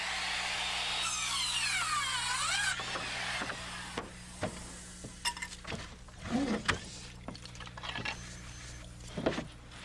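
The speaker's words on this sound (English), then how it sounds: "We eyeball an angle cut at one end, position it, and cut an angle at the top end." A power saw cuts an angle into a scrap 1x6 board for roof framing, its whine rising and dipping over the first few seconds before tapering off, followed by scattered knocks and handling clatter.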